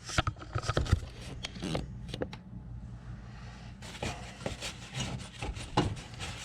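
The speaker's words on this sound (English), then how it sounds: "So if I see any dust or crud, I'm just wiping it off real good." A cloth wipes dust and crud off an xTool P2 laser engraver in irregular, close scrubbing strokes, with a short quieter pause midway and no talking.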